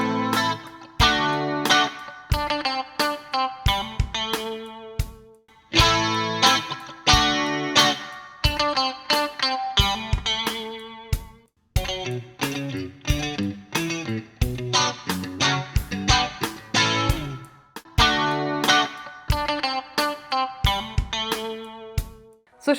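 PRS SE Silver Sky electric guitar with tone knobs at 7, played through an amp with reduced bass and gain, with strummed chords and riffs in steady rhythmic bursts and brief pauses, clear and upfront, no talking.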